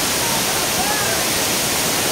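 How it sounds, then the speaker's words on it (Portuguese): Strong waterfall at Bica Grande in Natuba, Paraíba, a steady loud roar of heavy flowing water filling the whole span, close and continuous. "Muita água escorrendo."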